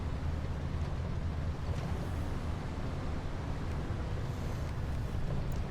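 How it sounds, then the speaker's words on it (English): A Valtra tractor engine drives steadily in Farming Simulator 22, a constant low rumbling drone with broadband road and wind noise, even and unbroken throughout. "The Valtra just cruises along, doing its thing."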